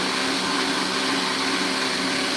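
A blender blending sea moss runs continuously at high speed, a loud steady whirring motor with a dense churning hiss throughout.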